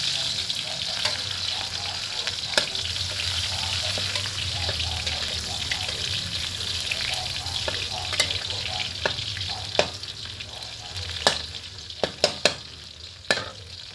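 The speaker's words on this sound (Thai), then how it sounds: "พอน้ำมันร้อน เราก็ ใส่กระเทียมลงไปนะครับ" Steady sizzling of garlic frying in hot oil in a pan, with occasional stirring clicks and scrapes near the end.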